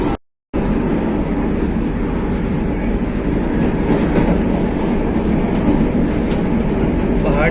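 A train heading toward Katra rolls along the rails with a steady, loud rumble and rhythmic clickety-clack of wheels, continuous after a brief silent gap at the start.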